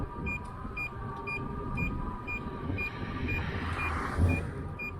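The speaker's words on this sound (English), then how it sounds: "I always get the beeps here." A high electronic beep repeats at a steady, quick pace over the rumble and whir of a bicycle on a night ride.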